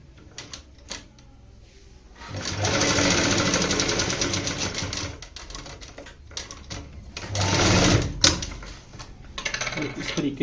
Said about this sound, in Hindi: इसी तरीके से हम यहाँ पे दूसरी साइड भी ऐसे सिंगल टाका लगाएंगे